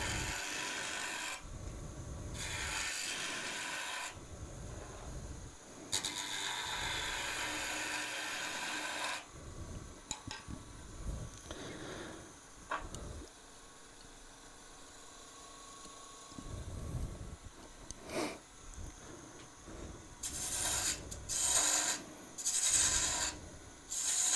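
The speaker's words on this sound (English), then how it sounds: "with just a spindle gouge, it turns down pretty quickly with this size of wood" Spindle gouge cutting a small wooden Christmas ornament blank spinning on a lathe, giving bursts of rough scraping and rasping that stop and start in long passes, fairly close, with no talk.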